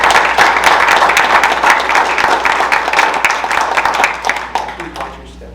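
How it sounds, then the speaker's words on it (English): A round of applause at a school board meeting, a room of people clapping loudly and steadily before it thins out and fades at the end, with a few voices mixed in. "Let's give them a round of applause."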